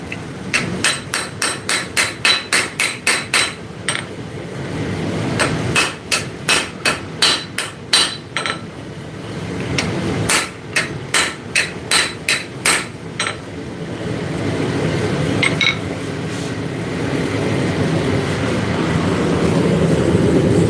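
Ball peen hammer forging hot steel, struck in quick sharp ringing bursts of about eight to ten blows each, with short pauses between runs. The blows are loud and close and fade into steady shop noise near the end.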